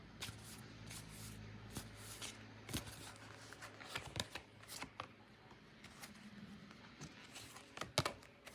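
Soft, rapid papery riffling and tapping of tarot cards being shuffled close up, continuous with small sharp snaps, no talking.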